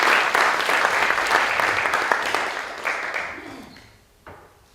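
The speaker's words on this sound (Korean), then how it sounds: "환영의 박수." Welcoming applause from a church congregation at a missionary conference, a loud broad wash of many hands clapping that gradually thins and fades out, ending with a single sharp knock and near quiet.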